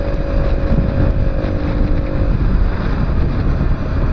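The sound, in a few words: motorcycle riding to work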